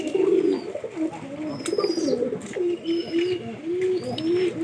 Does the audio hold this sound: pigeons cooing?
yes